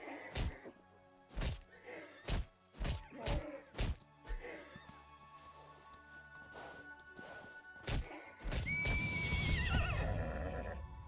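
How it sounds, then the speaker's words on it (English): A horse in the video game Citadel: Forged with Fire, with a series of sharp hoof clops and thuds followed by a loud, close whinny at the end. "It's a horse."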